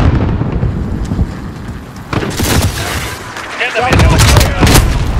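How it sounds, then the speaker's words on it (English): Cluster strike explosions in Call of Duty: Modern Warfare, with loud, heavy booms rolling one after another and growing denser and stronger toward the end. "Enemy cluster strike. Take cover."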